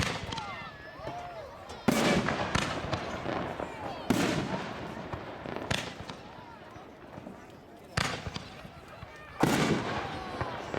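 Aerial firework shells, including a fish tank shell, burst outdoors at a demo of shells and cakes, sharp booms landing every couple of seconds with crackling between them, while people talk faintly underneath.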